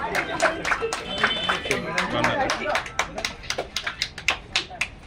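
Clapping breaks out at a felicitation ceremony during a birthday celebration, a scattered burst of hand claps from a small crowd, growing sharper and more rhythmic toward the end, mixed with talk.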